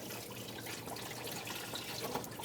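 Coolant draining from the thermostat housing of a 2006–2011 Honda Civic, a steady close trickle of liquid running without pause.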